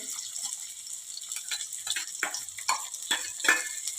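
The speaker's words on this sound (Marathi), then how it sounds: "कांदा आपल्याला एक दोन मिनटापर्यंत छान असा परतून घ्यायचा आहे" Finely chopped onion sautés in oil with cumin, a steady close sizzle marked by repeated crackling pops and soft stirring scrapes, with no voices.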